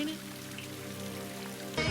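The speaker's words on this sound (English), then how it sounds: "Is it raining?" Steady rain falls and patters on surfaces in a soft, continuous wash, with a brief louder burst at the very end.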